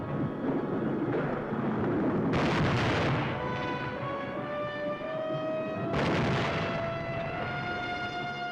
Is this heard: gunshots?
yes